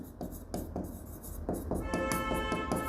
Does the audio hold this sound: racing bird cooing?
no